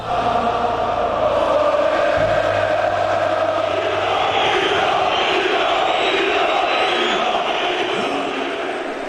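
A football crowd chants and roars inside a Balkan stadium, loud and sustained at close range. The dense mass of voices swells steadily throughout, with a low droning undertone at the start.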